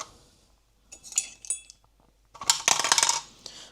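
Metal scissors and small tools dropped into a makeup organizer, giving a few sharp clinks and rattles near the microphone, one short cluster, a quiet gap, then a denser burst of jangling metal.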